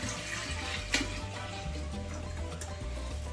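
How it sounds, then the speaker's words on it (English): Cooled mint water poured steadily into a pitcher for a mock mojito, a continuous close splashing pour with one brief louder gush partway through. "All right, so the mint water is cooled. I'm just gonna add it to my pitcher."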